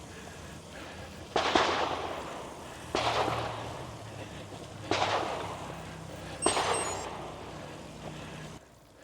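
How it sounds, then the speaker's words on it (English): Gunshots ring out from the hills above the cobbled Tremola road on the St. Gotthard Pass in the Swiss Alps: four distant, sharp cracks spaced a couple of seconds apart, each trailing off in a rolling echo over a quiet outdoor background. "I keep hearing gunshots from up in them hills."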